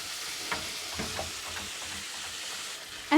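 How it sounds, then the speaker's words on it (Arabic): Rice being stirred in a pot with spices, with a soft sizzling hiss under scraping stirs that come in a few brief bursts, close by, and a sharp clatter at the end. "وهفضل اقلب فيه كده في الرز بتاعي"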